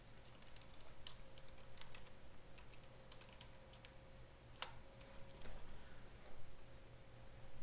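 Fingers tap out quick irregular bursts of keystrokes on a computer keyboard, soft clicks with brief pauses and a sharper clack near the middle, heard close and quiet.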